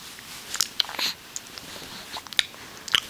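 A person makes sharp clicking noises with the mouth, a loose irregular series of small snaps, close and fairly quiet.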